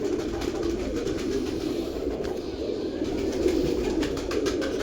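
A white-barred breeder pair of pigeons coos in a steady, low, murmuring drone that continues through the whole stretch, close by and fairly loud, with no talking over it.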